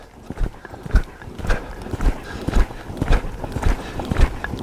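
Rhythmic clip-clop of horse hooves on soft ground, steady beats at a loping gait, fairly close, with no talking.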